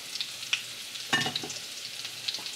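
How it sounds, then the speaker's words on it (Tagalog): Sausage cooking in a pan with melted unsalted butter, for a Cajun seafood boil, gives a quiet, steady sizzle with a few soft stirring scrapes and small pops, without speech. "lutuin natin ang sausage"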